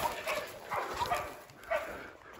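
Several hunting dogs barking while bailing a wild pig during a New Zealand pig hunt, with repeated yelping barks in irregular bursts at moderate distance.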